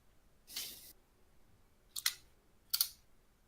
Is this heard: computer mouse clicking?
yes